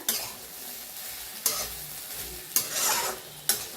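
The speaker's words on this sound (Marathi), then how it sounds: "असं छान भाजून घ्यायची बघा गवारी" Cluster beans (gavar) roasting in a pan, with a soft steady sizzle broken by three sharp scrapes of stirring at moderate loudness, no talking.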